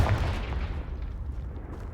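A Confringo spell blast in the Hogwarts Legacy video game lands as a short booming explosion with a rumbling low-end tail that fades within two seconds.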